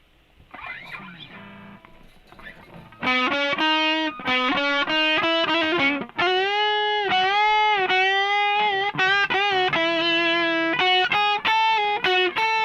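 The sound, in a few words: electric guitar through a distortion pedal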